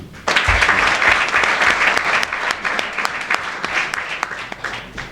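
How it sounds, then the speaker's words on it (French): A crowd at a general assembly ceremony breaks into loud applause, a thick, sustained burst of many hands clapping that carries on for several seconds before easing slightly. "S'il vous plaît, applaudissez."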